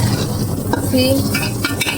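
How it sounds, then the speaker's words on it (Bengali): Meat and spices for biryani frying in a pan at home, with a steady close sizzle and a utensil scraping and clinking against the pan as it is stirred. "আমি একবার ওটা ভাজছি, ভাজা হয়ে গেলে তোমাদের দেখাচ্ছি।"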